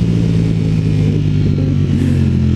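A Ducati Streetfighter V4S motorcycle engine rumbles loud and close with a deep, steady tone that rises slightly in pitch near the end, heard alone without speech.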